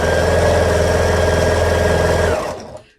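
Sewing machine stitching long fabric strips together, a fast, steady mechanical whir and rhythmic hum running close and loud for over two seconds before spinning down to silence.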